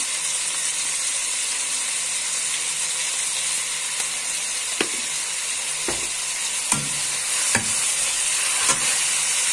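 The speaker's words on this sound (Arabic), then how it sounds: "هفضل اشوح فيها" Okra and meat sauté in a pot with a steady, loud sizzle and hiss throughout, and several sharp scraping knocks of a spoon stirring against the pot come toward the end, with no voices.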